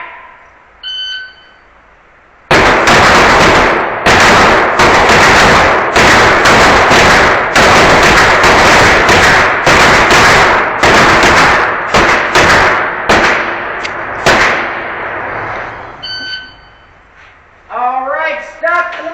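Rapid, very loud Glock pistol fire at an indoor GSSF shooting range, dense overlapping shots from several shooters for about twelve seconds, then scattered final shots, a range buzzer and a commanding voice around it.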